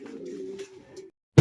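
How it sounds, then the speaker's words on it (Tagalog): A pigeon gives a short, soft, low coo close by, followed after a brief silence by a sudden louder burst of noise. "Hindi ko napansin, may kalapati pala doon."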